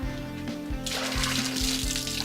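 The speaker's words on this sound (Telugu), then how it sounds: "ఇలా మొత్తం నీళ్ళు పిండేసి" Water splashes and drips as a batik-dyed sari, with its wax just removed, is wrung out by hand; the sound starts quiet, then turns into a loud, close gush of streaming water.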